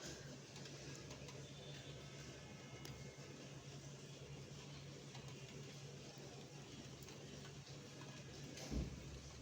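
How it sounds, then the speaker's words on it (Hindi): Steady rain falling in Delhi, a continuous faint hiss of drops with a single brief thump near the end, no voices. "बारिश हो रही है"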